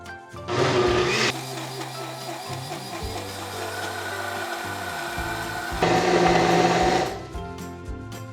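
A blender purees avocado soup with vegetable stock, giving a loud whirring motor roar with bursts near the start and again around six seconds, steady and close, no talk.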